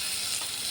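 Garlic sizzling in hot oil in a pan, a steady bright hiss of frying that holds level throughout with faint stirring clicks and no speech.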